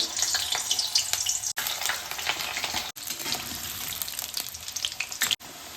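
Potatoes frying in a generous amount of hot mustard oil, a loud continuous close sizzle with crackling bursts and brief gaps as pieces are added or stirred.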